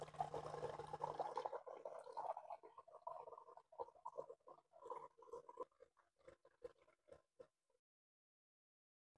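Water dispensed from an electric desktop pump dispenser on a 5-gallon bottle: a steady pouring rush for about a second and a half, then a series of small sputtering drips and trickles that fade out, close and fairly quiet.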